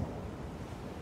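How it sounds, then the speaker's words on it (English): Ocean waves in the horror fishing game Mourning Tide, a steady dense wash of surf that stays loud and even throughout, with no voices. "Are those waves?"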